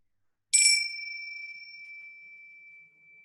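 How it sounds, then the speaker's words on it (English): A meditation bell rings once with a bright metallic strike, then its clear tone hangs and slowly fades over a few seconds in an otherwise silent space. "this sound effect was just for those people who are actually conditioned to hear bells whilst meditating"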